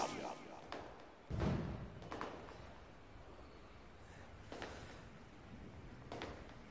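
Scattered firecracker bangs and thuds pop at irregular intervals, one louder burst early on, the rest fainter, with background noise between.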